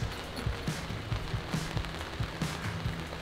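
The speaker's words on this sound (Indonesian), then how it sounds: "lagi hujan" Rain falls steadily on a glamping site, a dense even patter with occasional louder drips striking a nearby surface, heard alone without voices.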